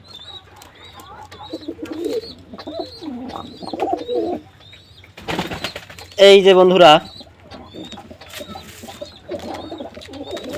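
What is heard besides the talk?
owl pigeons cooing in loft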